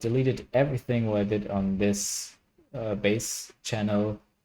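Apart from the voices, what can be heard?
No everyday noises stand out.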